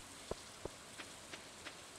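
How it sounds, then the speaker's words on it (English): Rain falls in the farming video game Stardew Valley: a soft steady patter with a few distinct drip-like ticks spaced evenly through a short stretch, with no one talking. "Come on, it's raining,"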